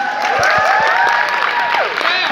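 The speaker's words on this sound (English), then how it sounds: "let's give him a round of applause again" Convention audience at a Comic-Con panel applauding and cheering, loud crowd clapping with high excited voices and whoops mixed in.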